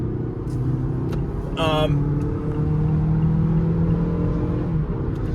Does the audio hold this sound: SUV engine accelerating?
yes